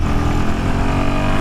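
A Royal Enfield Himalayan 450 single-cylinder engine pulls hard in third gear, a loud, close, continuous throbbing roar with dense harmonics and no speech.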